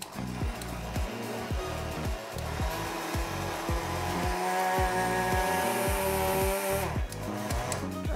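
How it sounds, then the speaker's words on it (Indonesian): A kitchen blender whirs steadily as it purees mochi batter ingredients. The close motor drone carries a fast rhythmic knocking, and its pitch shifts near the end before it settles. "langsung kita blend ya"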